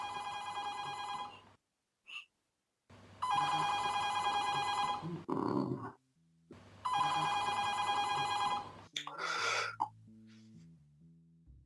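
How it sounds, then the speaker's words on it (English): A telephone rings in three long electronic bursts with gaps of silence between them, and short coughs and throat noises come in after each ring. "Did your phone ring?"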